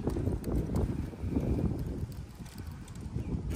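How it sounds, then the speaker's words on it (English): Gusty outdoor wind buffets the microphone at a bricklaying job, a low, uneven rumble rising and falling over a few seconds with no talking. "It's really windy"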